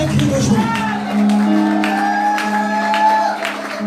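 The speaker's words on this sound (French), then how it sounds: "Est-ce que tu peux pousser des cris de joie?" A church congregation shouts and cheers for joy during a French-language worship service, a loud, sustained swell of many voices with a preacher speaking over it.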